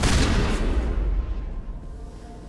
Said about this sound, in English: Look how accurate this shotgun is.